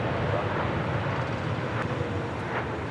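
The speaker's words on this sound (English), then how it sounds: "It's the Turkish Airlines Dreamliner coming in from Istanbul" A Turkish Airlines Dreamliner from Istanbul arrives at Los Angeles International Airport with a steady, broad engine roar that holds throughout, mixed with wind noise.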